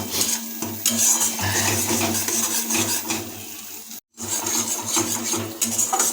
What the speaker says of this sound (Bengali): যেহেতু প্রায় মিনিট পাঁচেকের মতো এই পেস্টটাকে আমরা তেলের মধ্যে কষিয়ে নিয়েছি